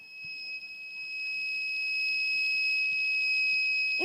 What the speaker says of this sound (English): the sensor provides an output signal to activate an alarm in the form of a LED or